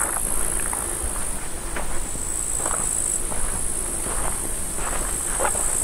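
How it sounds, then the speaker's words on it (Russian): Crickets chirp together at night in a quiet forest village, a dense, steady high-pitched trill with pulsing bursts that carries on without pause and no voices. "Концерт сверчков."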